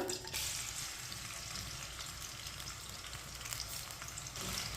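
Chopped onion hits hot oil in a pan while aloo shimla mirch is cooked, a soft, steady sizzle with faint stirring noises and no voices.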